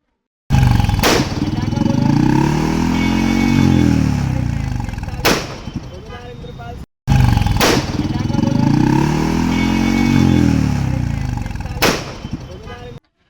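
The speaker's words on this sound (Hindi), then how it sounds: "तरणताल से लेकर कोठी रोड तक सूबेदार इंद्रपाल सिंह और ट्रैफिक टीम के द्वारा पटाखा बुलेट के खिलाफ कार्रवाई की गई है।" A Bullet motorcycle with a loud modified firecracker exhaust roars close by, its rumbling engine punctuated by sharp, gunshot-like bangs; the same roaring pass with cracks occurs twice in a row.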